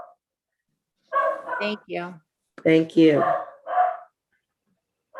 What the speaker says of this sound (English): please forgive if you can hear my barking dog in the background.